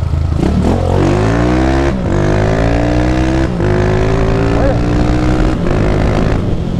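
A 150 Sport motorcycle fitted with a 280cc engine rides by, its engine revving up through gears with rising, falling drone and brief shift gaps, loud and close, with someone briefly speaking.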